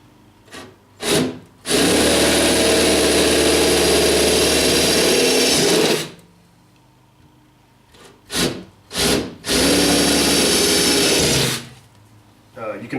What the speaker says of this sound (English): so I'll go ahead and drill that hole next, using the little hole as my guide hole